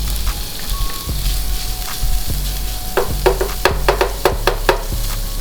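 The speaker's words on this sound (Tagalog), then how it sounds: "Habang nagluluto ng bacon," Bacon sizzles steadily in a hot pan for Manila-style carbonara, with a loud, continuous crackle and a run of sharper pops and spatters toward the end.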